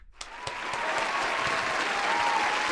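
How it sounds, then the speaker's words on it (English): Applause swells quickly after a couple of lone claps and holds as a dense, steady wash of many hands clapping. "round of applause"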